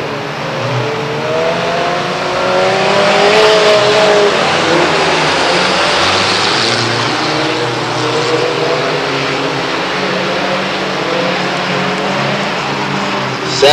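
Race cars roar around a speedway during a heat race, engines droning loud and continuous with rising and falling pitch as they pass, crowd-level din underneath.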